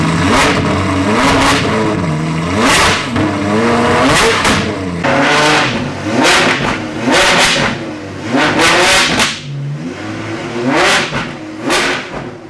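An Apollo Intensa Emozione supercar's engine revs hard in a series of loud, close rising and falling blasts, with brief gaps between each surge.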